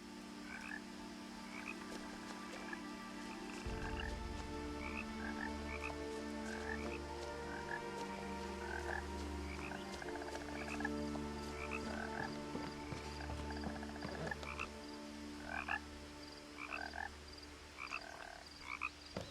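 Frogs croak in the video game What Remains of Edith Finch, a dense chorus of repeated rhythmic calls over a steady low ambient drone, loud and continuous with no talking.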